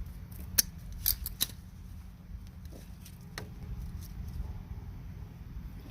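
Pruning shears snip a rose stem cutting for propagation, a few crisp close cuts in quick succession followed by faint handling noise.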